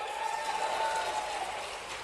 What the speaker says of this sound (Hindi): जरा ताली वाली बजा के बताओ